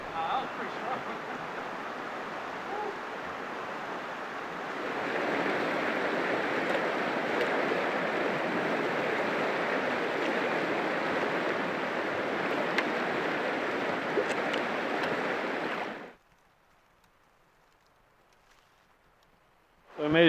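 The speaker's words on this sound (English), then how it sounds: "All you got to listen to is a few birds and then the river running next to you." A river runs right beside a hiking trail on the Eagle Rock Loop, a steady close rushing of water that swells after a few seconds and then drops away, with a voice briefly at the end.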